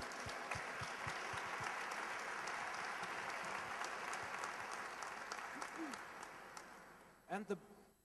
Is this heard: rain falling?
no